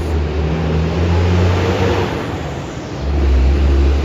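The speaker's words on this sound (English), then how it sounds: "Big trucks." Large trucks rumble past on a busy New York City street, a steady close engine drone with a louder surge of revving toward the end, no talking.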